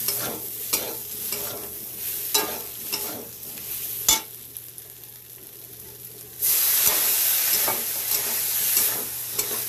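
Turmeric goes into a pan of frying food: spatula strokes tap and scrape in a slow rhythm, then a loud, close, hissing sizzle swells and holds to the end.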